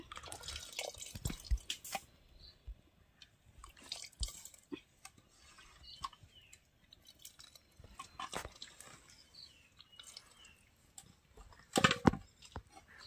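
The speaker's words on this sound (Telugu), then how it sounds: "నీళ్ళైతే చింతపండు నీళ్ళైతే ఇలా పోసుకోవాలండి." Tamarind water is poured into a cooking pot outdoors in a forest, making faint, intermittent splashing and dripping with scattered small clinks and a louder gush near the end.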